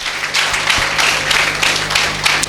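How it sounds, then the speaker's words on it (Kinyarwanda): A church congregation claps together steadily during a worship service, a dense, continuous patter of hands at moderate loudness with no talking over it. "amashyi kwa Yesu menshi cyane mu izina rya Yesu"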